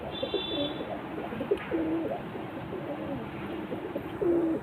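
Madrasi pigeons coo in a repeated series of soft, low, rolling calls close by, with a faint background hiss and no speech.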